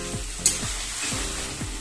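Fried potatoes and duck eggs are mixed with spices in a pan, a soft steady sizzle broken by several evenly spaced stirring scrapes, no voices.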